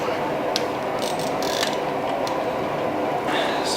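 A cheap Harbor Freight ratchet clicks during the teardown of a KA24DET engine. Several sharp, close metallic clicks come in quick irregular bursts over a low workshop background.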